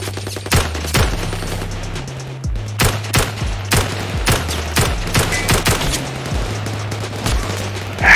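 Rapid gunfire in the VR shooter Zerocaliber VR, sharp repeated shots in uneven bursts across the whole stretch, loud and close, under a low steady drone.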